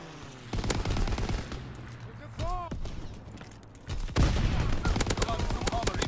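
An aircraft strafing run in a WWII shooter game rips out in rapid bursts of gunfire, sharp and close, with brief pauses between volleys and a voice speaking under the game sound.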